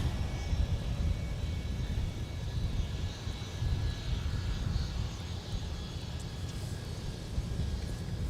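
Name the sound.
SkyWest airliner on the runway at MSP airport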